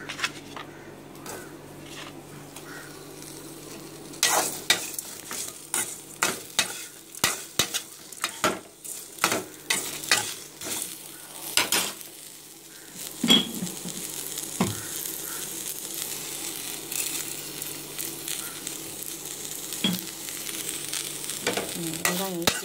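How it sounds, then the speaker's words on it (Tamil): Sliced onions sautéing with salt in a pan for a pepper chicken dish, giving a steady sizzle broken by frequent scraping stirs of a spoon, close and fairly loud, with no talking. "வெங்காயம் ஈஸியாக வதங்கணும்னு"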